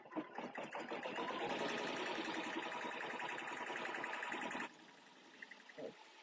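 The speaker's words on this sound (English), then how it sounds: "And then I do my sewing." A Continental M17 embroidery sewing machine sews a seam on an Easter basket project, a close, steady rhythmic whirring and rattling for about four and a half seconds before stopping, then a few soft handling sounds.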